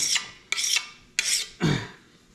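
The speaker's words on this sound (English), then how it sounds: "we'll use the sanding stone with some WD-40 on it and kind of just work it in there" Four rough, rasping strokes of a sanding stone with WD-40 scraping across metal, each a short gritty burst with brief pauses between, close and fairly loud.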